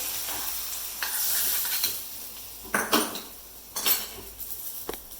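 A utensil scrapes and clatters against a hot pan while mixed vegetables are stirred for a South Indian poriyal. Soft sizzling runs underneath, with louder scraping bursts near the middle and end.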